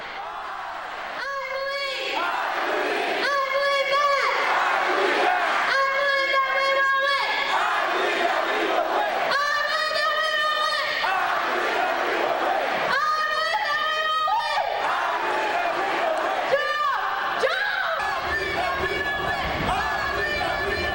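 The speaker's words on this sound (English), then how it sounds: "We actually tried out a little cheer at our last assembly that we're going to do at basketball games." A school assembly crowd chanting a cheer meant for basketball games, loud rhythmic group shouts in repeated bursts filling a large hall, alone with no separate talk.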